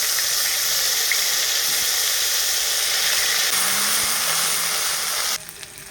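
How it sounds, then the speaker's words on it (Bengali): Onion and cumin paste fries in hot oil for a pangas fish dish, producing a loud, dense, steady hiss of sizzling that drops abruptly near the end. "পেঁয়াজ আর জিরে বাটা একটু ভাজা ভাজা হয়ে গেছে"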